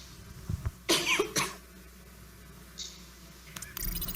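Short bursts of coughing from a deputy during a parliamentary plenary session, a few harsh broken coughs near the start, then quiet room tone with faint clicks.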